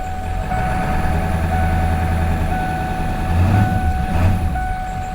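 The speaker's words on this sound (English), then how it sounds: "That may be the easiest start up of a vehicle that's been sitting a while I think I've ever had." A 1997 Ford F-350 that sat for ten years idles steadily just after starting, a close, even rumble with a thin whining tone over it and no talking.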